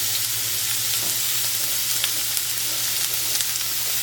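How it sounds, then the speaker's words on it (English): Onion sautéing in a tablespoon or two of hot oil in a pan gives a steady, loud sizzle and crackle that holds throughout with no pauses. "Give it at least a tablespoon, maybe 2 tablespoons in a hot pan. We're going to put in our onion."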